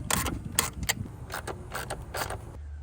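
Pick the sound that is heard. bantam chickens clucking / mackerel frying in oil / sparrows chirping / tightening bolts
tightening bolts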